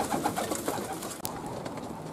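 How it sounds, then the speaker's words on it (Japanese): Pigeons coo and stir close by at a loft on a hot sunny day, with soft repeated calls, a sharp brief flutter or snap midway, and a steady outdoor hiss behind them. "飛び始めたハトたちです。"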